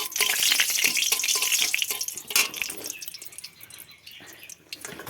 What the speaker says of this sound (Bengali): তেলে আমি প্রথমে দিয়ে দিলাম গোটা গরম মশলা।